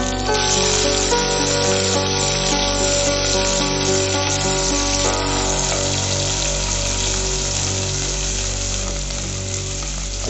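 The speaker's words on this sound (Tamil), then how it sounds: "அது வணங்கின பிற்பாடு வெங்காயத்தை சேர்த்து வதக்கிக்கிங்க" Onions sautéing in hot oil with whole spices such as cardamom and bay leaf, for tomato biryani: a loud, continuous close sizzle with a low steady hum underneath, no voices.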